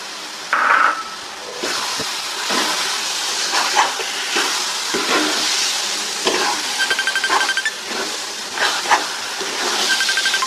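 Olive pickle simmering in a pan sizzles and hisses steadily while a spoon scrapes and stirs it in repeated strokes, close by and with no talk.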